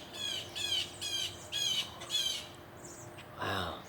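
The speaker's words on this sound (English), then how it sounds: "I saw these birds. Oh, more birds are flying in." A flock of birds squawking outdoors after rain, five loud harsh calls in a steady rhythm close by, then a brief pause and one lower squawk near the end.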